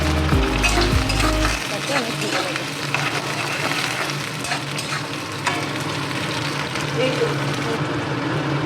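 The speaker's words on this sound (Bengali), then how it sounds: "এক থেকে দু মিনিট সেগুলো একটু মিডিয়াম টু আছে হালকা করে একটু ভেজে দেবো" Cubed capsicum and onion for chilli chicken frying in a pan, a loud continuous sizzle with stirring and scraping, a low rumble at the very start.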